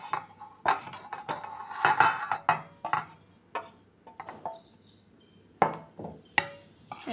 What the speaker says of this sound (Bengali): এখন এই সবগুলিকে ভালো করে মিক্স করো।